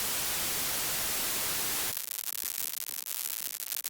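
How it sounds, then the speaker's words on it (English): Sparse crackle layer for a snare, made from white noise run through Ableton's vocoder: a dense hiss gives way halfway through to a thinner, loud, irregularly crackling noise with scattered clicks. "It's like crackle when you can visualize it as less dense noise."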